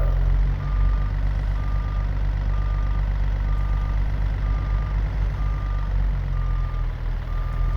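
Peterbilt 379 truck on an Oklahoma grain haul backing up, its reversing alarm beeping steadily about every half second over a loud, low idling diesel rumble throughout.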